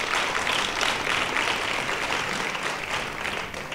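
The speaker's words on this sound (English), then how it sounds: "Can clap hands again" A church congregation claps hands during a prayer and fasting service, dense continuous clapping that fills the space evenly throughout, with no voice on top.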